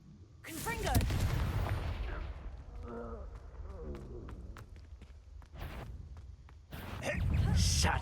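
A Confringo fire spell blasts in Hogwarts Legacy, with sharp impacts and bursts amid combat sounds, the loudest eruptions near the start and again at the end, under some voice sounds.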